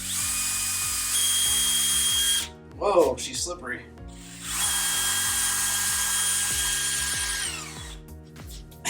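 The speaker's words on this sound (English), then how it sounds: "Gotta drill a hole in her head." A power drill whines steadily as it bores a hole into a mannequin head in a garage workshop, running for a couple of seconds, pausing while someone talks briefly, then drilling again at length.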